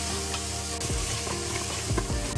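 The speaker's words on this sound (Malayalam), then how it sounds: "ഇനി നെക്സ്റ്റ് നമ്മൾ സബോള ഇതിലേക്ക് ആഡ് ചെയ്തു. എന്നിട്ട് നന്നായി നല്ലോണം ഒന്ന് ഇളക്കി കൊടുക്കും." Sliced onions frying in a pan for chicken madhooth, a continuous sizzle with several scraping strokes of a spoon as they are stirred, close and steady, no voices.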